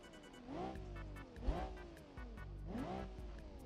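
An Ibishu 200BX in BeamNG.drive revs repeatedly. Its engine pitch climbs and drops in three rhythmic cycles, a steady mid-range drone with a brief knock partway through and no talking.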